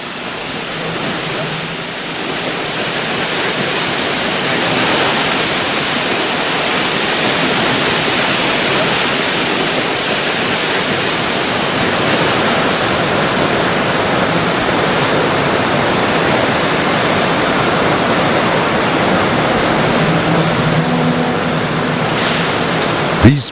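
Mountain waterfalls and streams roar in a loud, constant broadband rush that stays unbroken for over twenty seconds, with a faint sharp click at the very end.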